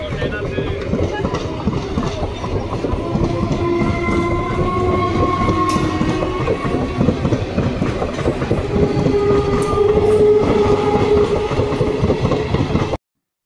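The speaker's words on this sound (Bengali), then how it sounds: "এদিকে দেখো আমি ট্রেনে উঠে পড়েছি" Inside a moving train, a loud steady rumble and rhythmic clickety-clack of wheels on rails continues throughout, with faint tonal hums and brief high squeals over the running noise, ending abruptly.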